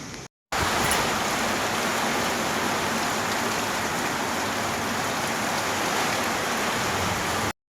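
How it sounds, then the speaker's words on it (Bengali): Steady rain pours down on a house in a continuous, even hiss that stays loud and close from start to end. A brief gap comes just before it settles in, and no one speaks. "রহমতের বৃষ্টি শুরু হয়ে গেছে, আর বৃষ্টিটা দেখে আরো বেশি ভালো লাগতেছে।"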